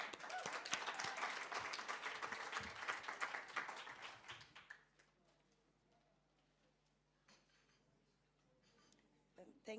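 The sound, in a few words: clapping welcoming Mercy Soy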